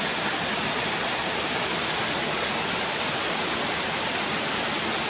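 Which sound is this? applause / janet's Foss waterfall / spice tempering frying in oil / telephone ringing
janet's Foss waterfall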